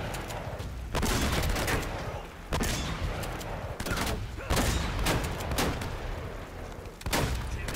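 Bursts of gunfire in the video game Uncharted crack out repeatedly, several sharp shots spaced a second or two apart over a constant noisy background rumble.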